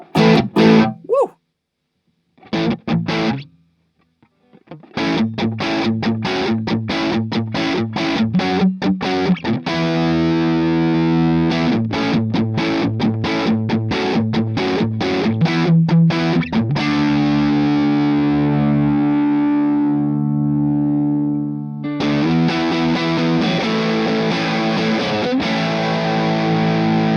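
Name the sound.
single coil electric guitar through Orange Baby Range amp head, gain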